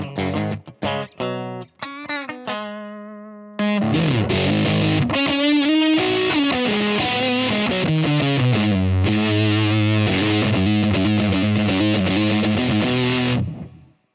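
Electric guitar through a Blackstar Debut 50R amp with a Motherload distortion pedal: a few clipped plucked notes, then loud, thick, saturated chords and sustained riffing that rings out and stops abruptly.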